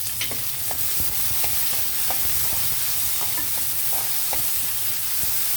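Medium-sized onion pieces frying in a pan, continuous sizzle with scattered spatula taps and scrapes, close and even, with no speech.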